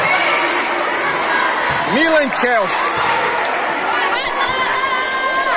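Spectators at a school interclass tournament in Itapetim, Pernambuco, chattering and cheering steadily in an echoing gym, with shouts and whistles rising above the constant crowd din.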